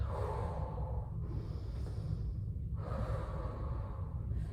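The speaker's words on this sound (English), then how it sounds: "That deep yoga breathing continues" Deep yoga breathing during a no-equipment core and leg workout: close, slow breaths with audible rushes of air and short pauses, some of them drawn sharply through the nose.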